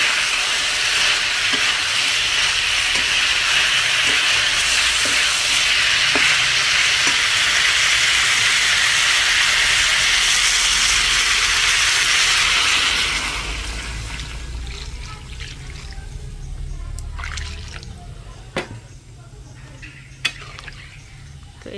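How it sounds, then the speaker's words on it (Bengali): Fish curry fries with a loud, close sizzle; about halfway through, hot water goes into the pan and the hissing drops to a quieter simmer with a few scattered clinks. "এখন আমি এগুলোর মধ্যে কিছুটা গরম পানি দিয়ে দিব"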